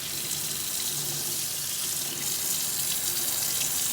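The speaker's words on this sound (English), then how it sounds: "take the tomato, put it under the water" Tap water runs steadily into a kitchen sink over a frozen tomato, a continuous broadband splashing rush that stays even and close throughout, with no talking.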